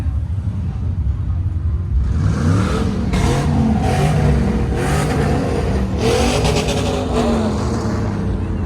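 Loud engine roar with rising revs, several cars accelerating nearby on a street in Gulfport, Mississippi, a steady throaty rumble that swells and surges throughout.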